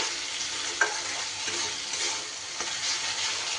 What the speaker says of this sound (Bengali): মশলা কিন্তু খুব ভালো করে আমার কষানো হয়ে গেছে